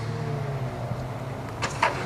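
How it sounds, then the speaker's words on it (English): Subaru WRX engine in a khanacross car at a championship event in Ringwood, Australia, a steady low engine drone heard at a distance, with a brief louder burst near the end. "Subaru engine."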